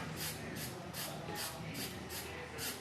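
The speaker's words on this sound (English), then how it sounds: "I'm just going to spray this line" Hairspray is sprayed in a barbershop onto the edge of a fade haircut, a series of about six short, evenly spaced aerosol bursts over a soft steady background hiss.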